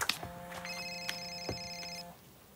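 A telephone rings in a quiet room during a domestic scene, one steady electronic ring tone held for about two seconds with a brief click at the start.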